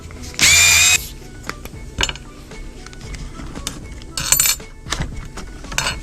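A power driver spins out Allen hinge-pin screws on a Traxxas Maxx RC truck, with a loud half-second whir early on and a second shorter burst later, separated by small metallic clicks and handling noises.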